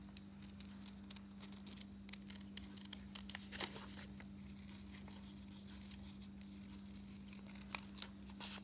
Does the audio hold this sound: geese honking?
no